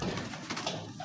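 A Golden Kabootar pigeon gives a soft, brief coo close by, mixed into low background noise.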